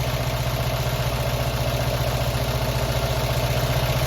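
A classic Fiat 500 engine idles steadily around 850 to 900 rpm during idle screw adjustment, a close, even, low pulsing throb with no voices over it.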